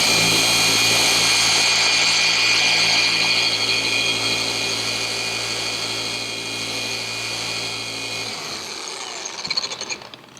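A RUPES dual-action polisher with a wool pad runs on car paint, a steady loud whirring drone with a high whine, holding for several seconds before spinning down and stopping with a few soft clunks.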